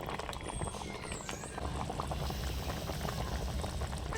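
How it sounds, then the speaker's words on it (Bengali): Katla fish curry broth in mustard oil with slit green chillies boils vigorously in a pan, giving a dense, continuous bubbling roar close by with no voices. "মাছের ঝোল ফুটে গেছে"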